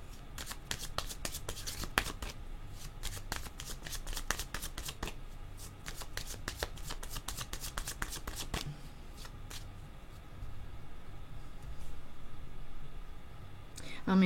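Tarot cards being shuffled in quick riffling bursts of crisp snapping, steady and close for several seconds before fading to softer handling noise.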